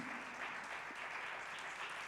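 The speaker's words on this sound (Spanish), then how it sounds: "Fuerte ese aplauso" Congregation applauding inside a church during a Saturday sermon, a steady, even wash of clapping held at moderate distance for the whole stretch, with no voice over it.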